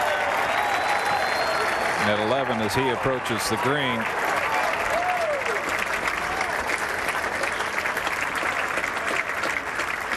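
A golf crowd gives Phil Mickelson long, continuous applause as he approaches the green at the eleventh hole, while a commentator speaks briefly over it.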